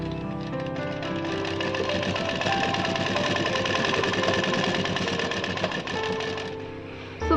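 Sewing machine double-stitching a thin fabric strip into a narrow dori, a steady close mechanical whir with rapid needle chatter running nearly the whole time, slowing briefly near the end.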